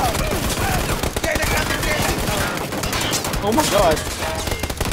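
Dense, rapid gunfire from the battle royale video game PUBG rattles loudly and almost without a break, while excited voices shout over it.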